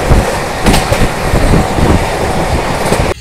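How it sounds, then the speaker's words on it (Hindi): Ganga Kaveri Express train rolling past on a railway, a loud, close, continuous roar with rhythmic clickety-clack of wheels over rail joints, running steadily until it cuts off at the end. "इधर अपनी ट्रेन आई"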